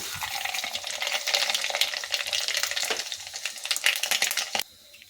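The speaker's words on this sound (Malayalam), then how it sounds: "അപ്പോൾ നമ്മുടെ എണ്ണയൊക്കെ ചൂടായിട്ട് ഇനി നമുക്ക് ഇതിലേക്ക് കടുക് ഇട്ട് കൊടുക്കാം" Mustard seeds crackle and pop in hot oil in a clay pot, a dense, close, steady sizzle of rapid spitting bursts that stops abruptly near the end.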